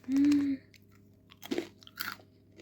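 A brief tonal hum, then two crisp crunching bites into crusty homemade bread baked in a sleeve, close and distinct, with quiet chewing between.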